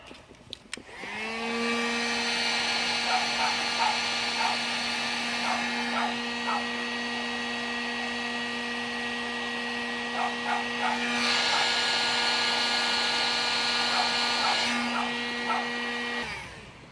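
Heat gun shrinking heat shrink tubing onto motorcycle tail light wiring, a steady loud whirring blow that starts abruptly and runs unbroken, with faint clicks and rattles over it, then cuts off.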